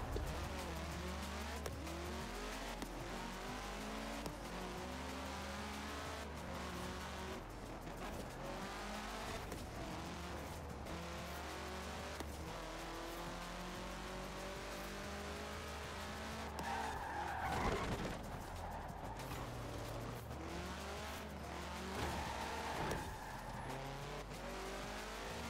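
Race cars in Forza Horizon 4 roar continuously with droning engines, repeated tire squeals and skids, and occasional louder bursts as they slide through corners.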